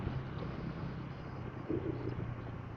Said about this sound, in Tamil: காத்து வந்து ரொம்பவுமே பயங்கரமா இருக்கு.